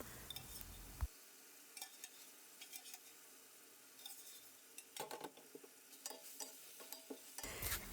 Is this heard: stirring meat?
yes